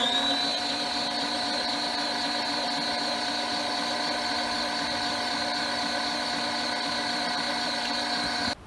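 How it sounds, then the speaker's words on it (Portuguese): An electric stand mixer runs at its minimum speed while beating cake batter, giving a steady whirring motor hum with a constant high whine, close and even, cutting off at the end. "Não pode ficar ligada muito tempo a batedeira e nem ligar ela na velocidade máxima"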